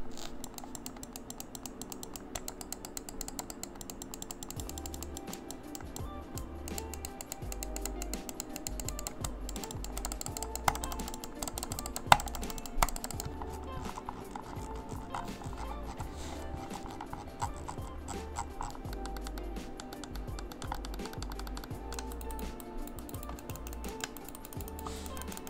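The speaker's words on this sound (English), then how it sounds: "Here's a quick sound test of the mouse so you can hear it for yourself." Button clicks from a Razer Orochi V2 wireless mouse with plastic buttons, a steady run of small, quick, close clicks with no talking over them.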